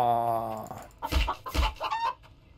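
A chicken in the survival video game The Infected gives a drawn-out crowing call, then several sharp, loud clucks and squawks in quick succession, close and alone.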